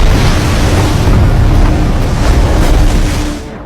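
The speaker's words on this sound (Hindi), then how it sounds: "तभी समंदर में एक खतरनाक तूफान आया" A dangerous storm at sea, with a dense, loud, continuous roar of wind and crashing waves that fades slightly at the end.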